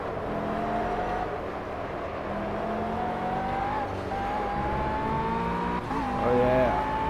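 Race car in Project CARS on a circuit in Germany, engine droning loud and continuous as it climbs in pitch through the gears, with tire noise and a short burst of extra effects near the end.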